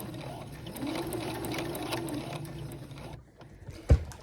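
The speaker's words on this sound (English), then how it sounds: "stitching over these little triangles and the welts is the final step" A sewing machine stitches over small triangles and welts on a Style Arc Beatrice pea coat. It runs with a steady, close mechanical whir for about three seconds, then stops, and one sharp knock follows.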